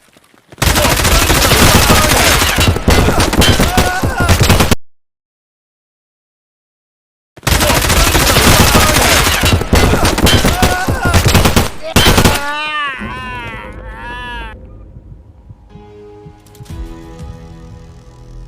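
Automatic gunfire in the shooter game Escape from Tarkov comes in two long, dense, loud bursts split by a brief silence, then fades as voices chatter over a quieter background.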